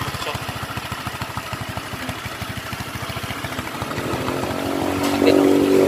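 An engine idles close by after a valve adjustment, its exhaust putting out a steady, even rapid thump that swells slightly louder toward the end.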